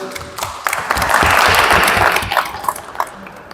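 Audience applause swells at a book presentation ceremony, a dense wash of clapping that builds quickly, holds steady for a couple of seconds, then thins into a few scattered claps.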